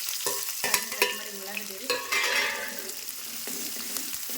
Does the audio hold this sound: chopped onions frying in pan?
yes